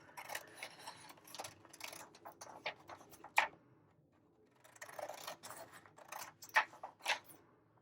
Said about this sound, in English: Where are my other scissors? And I'm going to cut out so I don't have this border.